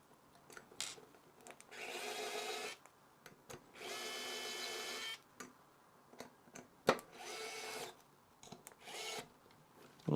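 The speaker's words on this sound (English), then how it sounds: "we're gonna use these screws to do it, like that. So let's do that, and let's grab my screwdriver." Screwdriver driving screws into a laser engraver frame, several rhythmic bursts of close ratcheting and scraping turns separated by short pauses and small knocks.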